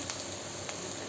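Green chillies frying in hot oil in a kadai with onions, tempering for cauliflower pakoda, make a continuous close hissing sizzle with a couple of sharper pops, with no voice over it.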